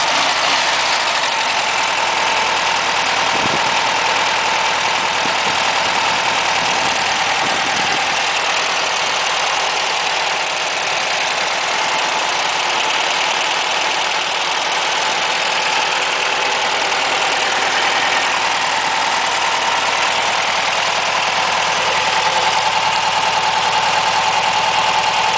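A Volkswagen Beetle's air-cooled engine idles steadily and close by, running evenly on all four cylinders with a constant hum and no talk over it.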